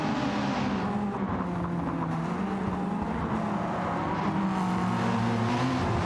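Racing cars in Gran Turismo 7, a DTM-style cup race at the Nürburgring GP circuit with a BMW, Mercedes and Ford battling for position, their engines droning and revving steadily together without a break.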